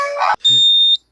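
A fire alarm rings in the Bubble Guppies cartoon, a loud steady high electronic tone of about half a second that cuts off abruptly, after a brief burst of cartoon voice.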